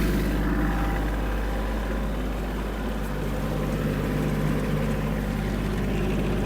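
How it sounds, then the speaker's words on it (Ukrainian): Engine of a Kubota GL-320 Japanese mini tractor revving, a loud, steady, close mechanical drone with a strong low hum that holds nearly constant throughout, with no talking. "Добавляю оберти."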